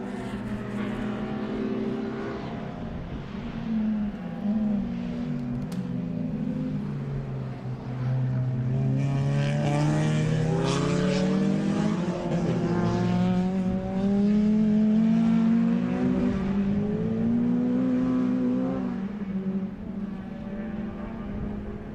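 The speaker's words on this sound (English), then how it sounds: "Pile of black smoke from the car as he puts the foot down, the boost comes in." A race car at a circuit accelerating hard as its turbo boost comes in, the engine note rising in pitch over a sustained, fairly distant roar without talk.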